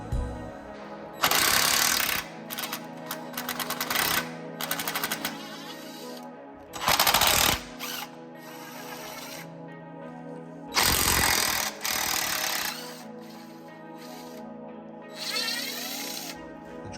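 Drive shaft bolts being removed on a 1986 Jaguar XJ6 rear suspension with a power tool, loud rattling impact bursts of one to two seconds each, separated by pauses, close up and with no talking.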